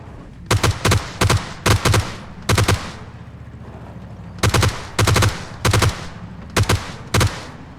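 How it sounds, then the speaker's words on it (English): Bursts of rapid gunfire hit a BRDM armoured vehicle in the battle royale game PUBG, short clusters of loud, sharp shots separated by brief pauses, close and without talk. "So we got a guy taking some shots at the BRDM."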